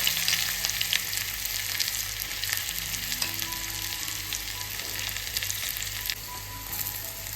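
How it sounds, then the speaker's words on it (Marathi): Whole spices and finely chopped onion fry in hot oil, giving a loud, continuous hissing sizzle with bright crackle that holds steady throughout, close to the pan and with no talk. "गरम गरम तेलामध्ये आपण ॲड करतो इथं म्हणजे खडे मसाले खडे मसाले टाकून झालेत आणि त्याच्या वरून आपण टाकला येतो म्हणजे बारीक चिरलेला कांदा"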